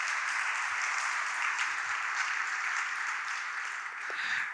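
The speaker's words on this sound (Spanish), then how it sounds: "un aplauso para aquellos que levantaron su mano" Church congregation applauding steadily throughout, a dense, even wash of clapping from a crowd with no voices over it.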